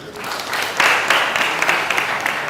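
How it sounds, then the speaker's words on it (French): An audience at a lecture on economic patriotism claps for a participant, with a moderately loud burst of applause that swells and then holds steady for a couple of seconds. "Est-ce qu'on peut applaudir pour lui?"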